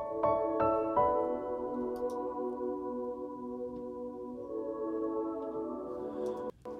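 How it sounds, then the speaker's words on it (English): A plain piano plays lush Debussy-style chords in drop-two voicings, doubled by a sustained synthesized choir, with a few struck chords at the start and then a long held, soft harmonic wash. "So I've got this little piano, like just a straight piano here with kind of like Debussy chords"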